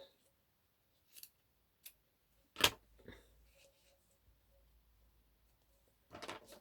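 Snips cutting away the sharp rim of a tin can, heard as a few quiet, separate crisp snips and clicks, one louder cut in the middle, spaced out in near silence.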